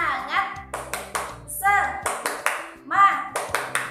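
In a children's religious studies lesson, a rhythmic "tepuk semangat" clapping chant plays out: sharp patterned handclaps in quick groups, alternating with a clear chanting voice.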